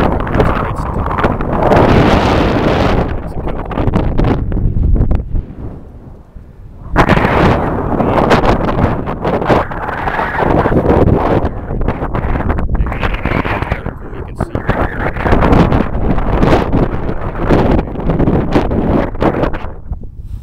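Strong wind buffets the microphone on Rincon Peak's summit, a loud continuous broadband roar that gusts and swells throughout, with a brief lull before surging back.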